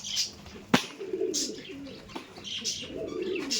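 Kaldom pigeons coo softly and repeatedly inside a pigeon loft, low throaty calls rolling on under a few sharper chirps and faint wing rustles nearby.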